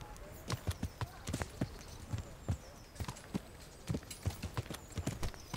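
Horse hooves clip-clopping at a steady riding pace in the medieval game Kingdom Come, a run of sharp, fairly close hoofbeats over a low ambient bed.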